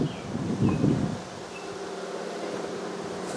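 Honeybees buzzing around hive equipment while splitting colonies into nucs, a steady close insect hum with a louder burst early on as bees fly near, then settling into a continuous drone.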